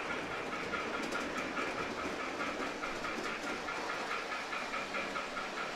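MTH or Lionel starter-set model train running steadily on its track with a continuous whirring rumble and a light clickety-clack, close and even throughout, with no talk.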